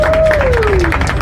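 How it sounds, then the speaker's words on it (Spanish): An audience at a company's twentieth-anniversary celebration claps in a loud, dense burst of applause, with a voice sliding briefly over the clapping. "me están aplaudiendo"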